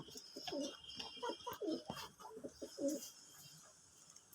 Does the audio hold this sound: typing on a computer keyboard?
no